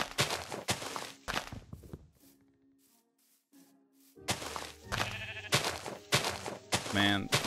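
Sheep bleat in the video game Minecraft during a multiplayer survival session, several short bleats mixed with footsteps and block sounds, with stretches of quiet in between and a player talking over parts.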